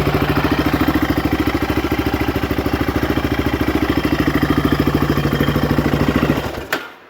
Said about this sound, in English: there's the fan. Hear the fan coming on?